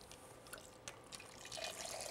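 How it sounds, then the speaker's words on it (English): Orange juice pours into a rum runner cocktail: a faint, thin trickle of liquid with a few soft splashes that swells slightly toward the end, quiet and close. "Add about 4 ounces of orange juice."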